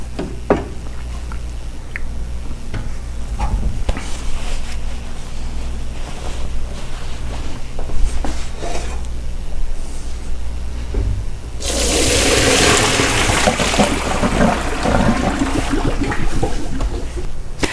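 Boiled spaghetti poured into a colander, the hot cooking water rushing and splashing down a sink drain; a loud, steady gush begins partway through after quieter kitchen clatter.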